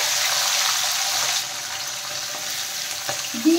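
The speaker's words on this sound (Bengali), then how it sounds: "এখন আমি বিনসগুলো ভেজে নিচ্ছি।" Beans and capsicum fry together in hot oil, giving a steady, close, bright sizzle that runs the whole way and eases slightly partway through, with a faint clink near the end and no talking.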